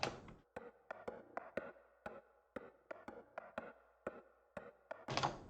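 Reversed, pitched-down knocking with added effects, a quiet series of around a dozen percussive hits in an uneven rhythm, each with a short decaying tail, ending in a brighter noisy swell.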